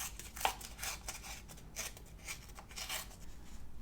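Sticker book paper being ripped by hand, a series of close, short tearing and rustling bursts spread across the moment with no talking.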